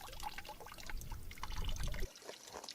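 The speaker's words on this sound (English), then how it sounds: "Now the water flow is a little slow, but that's okay." Water trickles slowly through a filter screwed onto a garden hose at an off-grid homestead, a soft, close, uneven dribble for about two seconds before it drops away.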